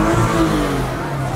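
A Porsche exhaust revs loudly and close by, a sustained engine roar with rising and falling pitch that fills the short moment with no voices over it.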